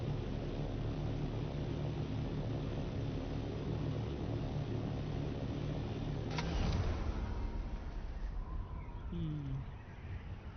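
A helicopter flies in the Dune Awakening video game, a steady droning engine rumble under talk that swells briefly midway, with a faint chirping bird-like call near the end.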